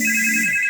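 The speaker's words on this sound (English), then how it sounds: "Can you answer the phone?" An incoming-call phone ringtone plays loud and close, a continuous electronic tone running through the whole short stretch with no voices.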